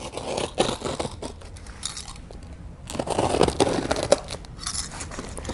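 A blade slicing the tape along the edges of a sealed cardboard box for a folding travel scooter, with close scraping, crinkling and tearing in uneven bursts and a brief quiet gap partway through.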